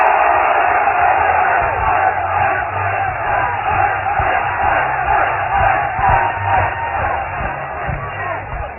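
A dense crowd roars and cheers at a Bassmaster Elite bass fishing weigh-in on the Delaware River, a loud, sustained wall of whoops and shouting that swells and dips without pause.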